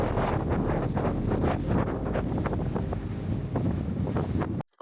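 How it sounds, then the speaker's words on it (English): Strong ocean wind of about 30 knots roars across the microphone aboard a sailboat at sea, a loud, steady gusting rush with water and hull noise underneath, cutting off abruptly at the end. "I'll let you hear what it sounds to be in 30 knots of wind on the ocean now"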